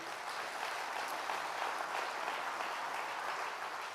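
A church congregation at a sermon on water baptism applauds in a steady, even wash of many hands, distant and faint, with no voices over it.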